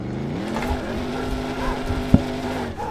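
A 1000-horsepower Dodge Hellcat on Southwest Florida roads, its engine rising in a steady rev as the throttle is pressed, with a brief sharp knock near the end, heard close and fairly loud with no talking.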